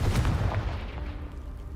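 A Confringo fire spell from the video game Hogwarts Legacy blasts apart a pile blocking a stairwell, a loud booming impact at the start that rumbles and fades over a second or so, with no talk.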